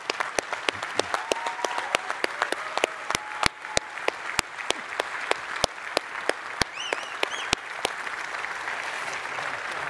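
An audience at a game developers conference applauds speakers on stage, steady dense clapping from a crowd with sharp individual claps standing out, continuous for the whole stretch.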